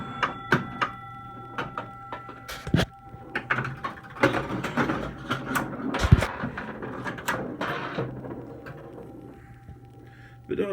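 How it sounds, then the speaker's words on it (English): Old pinball machines in an arcade run their mechanisms, giving a busy mix of clicks, knocks, bell-like tones and thumps, with a loud bang near the middle over a steady hum. "You really need to have all the machines playing at once to get the true effect of what an arcade used to sound like"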